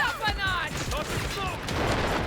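Rapid bursts of gunfire crackle in the shooter video game Delta Force, several close shots fired in quick succession while a player talks over them.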